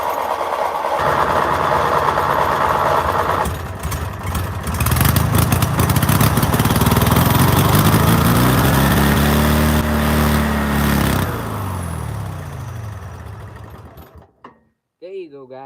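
A small engine with no governor is started and roars at full throttle, loud and close, its pitch surging and wavering for several seconds before cutting off abruptly, leaving brief quiet and a voice.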